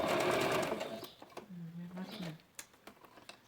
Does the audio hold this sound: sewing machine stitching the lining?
yes